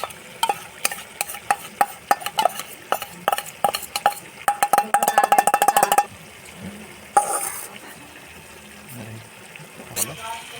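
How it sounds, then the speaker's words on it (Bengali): A spatula stirs chicken masala with onion paste in a frying pan, giving a quick run of sharp metallic scrapes and clanks over a low sizzle before a few slower stirs, close and loud. "এবার এটা কিছুক্ষণ নাড়াচাড়া করে তারপর এটাকে আদা রসুন বাটা দিয়ে দেবে"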